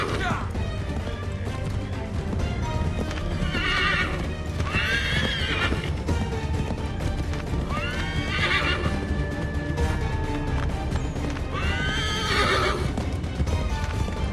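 Horse in Assassin's Creed 3 whinnies several times in loud, shrill bursts over steady galloping hoofbeats and busy game sound, with someone talking throughout.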